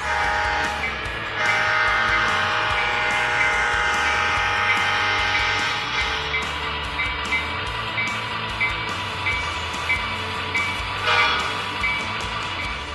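An MTH HO scale ES44 diesel locomotive model with a die-cast metal chassis runs with a steady motor drone and rumble, overlaid by a sustained tonal horn-like sound and recurring clicks and ticks.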